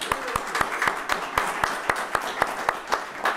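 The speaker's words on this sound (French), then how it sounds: "Donc on peut les applaudir bien fort." Sparse, steady clapping from an audience at a semikha ordination celebration for the organisers, individual hand claps standing out at an even rhythm over a soft room murmur.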